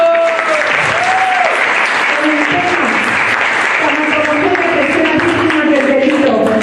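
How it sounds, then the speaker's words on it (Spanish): Conference audience at a regional thanatology congress in Gómez Palacio, Durango, gives a loud sustained round of applause to welcome a speaker, dense steady clapping with some murmured voices underneath. "Recibamos un fuerte aplauso."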